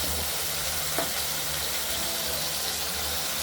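Pabda fish curry frying in a pan, a steady oil sizzle with occasional stirring scrapes and a brief splash as water goes in.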